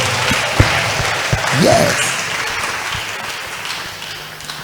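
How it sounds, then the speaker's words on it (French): Congregation at a church workers' meeting applauds loudly, a dense sustained wash of clapping with a few sharp individual claps and a short vocal shout mixed in. "Applaudis très fort."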